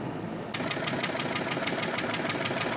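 Antique Essex hot air Stirling engine running on auxiliary torch heat, giving a steady, fast, even rhythmic clatter that starts abruptly and continues close and moderately loud.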